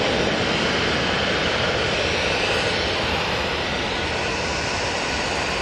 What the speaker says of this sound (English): Off to Bilbao with that A320-200.